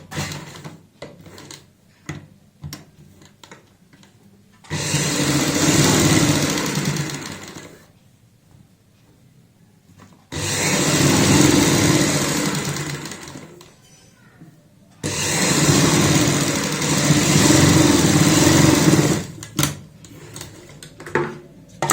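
Sewing machine stitching the center seam of a coat-collar kurti, running in three sustained bursts of several seconds each with quiet gaps between, fairly loud and close; talk is heard during the pauses.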